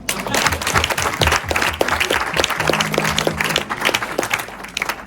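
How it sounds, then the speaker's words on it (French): A hall full of people at a women's conference applauds steadily, dense overlapping claps sustained and loud throughout, with a faint voice briefly audible underneath. "on peut acclamer."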